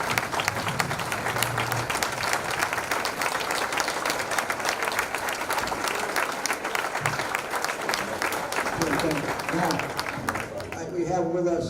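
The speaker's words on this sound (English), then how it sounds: "give yourselves a resounding round of applause" A standing audience at a high school alumni awards night applauds itself in a long, dense, resounding ovation, with voices and cheering mingled into the steady clapping and a voice starting up near the end.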